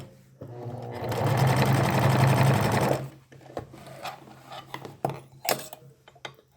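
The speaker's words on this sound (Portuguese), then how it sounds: "o próximo passo vai ser fazer overlocar a peça toda em volta, ou, para quem não tem um overlock, o zigue-zague" A sewing machine runs a zigzag stitch around the edge of a basic skirt, giving a steady close whir for about two and a half seconds, then falling to light clicks and fabric handling.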